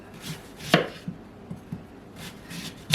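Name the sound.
knife slicing peeled sweet potatoes into thick fries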